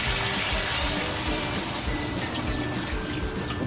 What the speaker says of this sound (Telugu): ఈ రొయ్యలని ఆగడానికి మనం ఒక గ్లాస్ వాటర్ యాడ్ చేసుకుందామండి